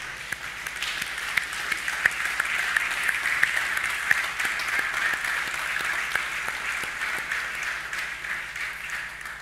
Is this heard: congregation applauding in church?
yes